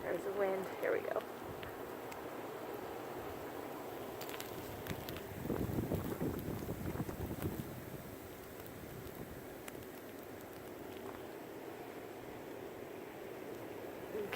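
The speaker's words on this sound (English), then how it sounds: "There's the wind." Wind from the Stella blizzard snowstorm of 2017 in Granville, Massachusetts roars steadily and buffets the microphone for a long stretch, a broad rushing noise with gusty swells in the middle.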